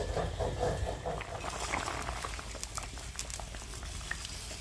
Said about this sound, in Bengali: মাছের ঝোল একদম রেডি হয়ে গেছে এখন নামিয়ে নিলেই